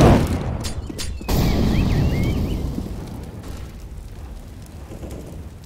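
A grenade goes off in Counter-Strike on the Inferno map: a sharp, loud blast at the start, a second crack just after, then a rumbling roar that slowly fades. No one speaks.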